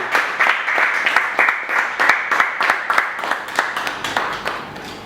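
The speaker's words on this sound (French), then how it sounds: "On peut même applaudir pour ça." At an award ceremony where parliamentarians present a merit diploma, an audience claps in a brisk, rhythmic burst, close and clear, with a few voices faintly mixed in.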